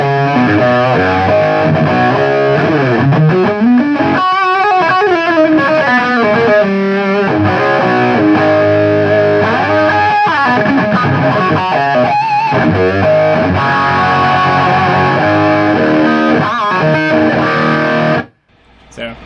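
An electric guitar played through a solid-state amp with the gain turned up, heavy distortion, chords and riffs ringing loudly and continuously before cutting off abruptly near the end.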